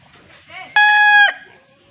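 Gamefowl rooster crowing on a farm, one loud close crow lasting about half a second, with softer clucking just before it and quiet background sounds around it.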